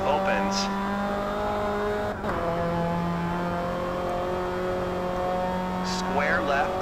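Rally car engine droning at sustained high revs in RalliSport Challenge 2, a steady loud harmonic whine with a brief dip and a couple of tire or gravel bursts, co-driver voice faintly present.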